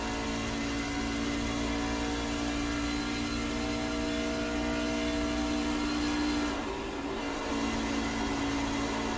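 Race car engine heard on board during an oval race, a steady loud drone with a brief dip as the driver lifts off the throttle for corner entry, then picks back up.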